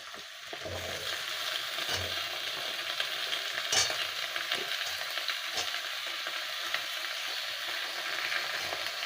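Onions, potatoes and taro sizzle in hot oil in a village-style kitchen, a steady crackling fry with occasional louder stirring scrapes and clinks.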